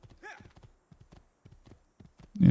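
Horse hooves clip-clop in the Assassin's Creed 2 video game, a sparse run of light, evenly spaced hoofbeats at moderate distance, closing with a louder, heavier thump at the end.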